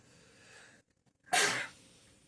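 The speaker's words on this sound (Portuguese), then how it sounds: "desculpe, mas, cara, todo dia que eu gravo aula, eu estou espirrando" A single sharp, close sneeze bursts out after a brief quiet pause, loud and breathy before fading away.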